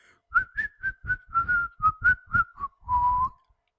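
A person whistles a short run of bright notes in a quick, bouncy rhythm, ending on one longer held tone, close and clear.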